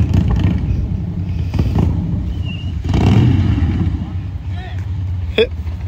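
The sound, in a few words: 2021 Harley-Davidson Street Bob 114 motorcycle riding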